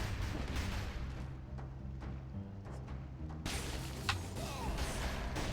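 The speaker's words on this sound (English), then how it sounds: "Ah! Explosions!" Explosions in a video game, heard as dense, continuous booming and crashing with a sharper burst near the end, loud and close, with no speech.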